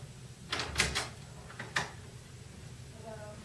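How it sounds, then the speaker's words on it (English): A hotel room door is unlocked with a key card and pushed open: a cluster of sharp latch clicks and handle clacks, then one more click a moment later, fairly close in a quiet room. "Now, I'll take my card to the door, and I'll open it with it."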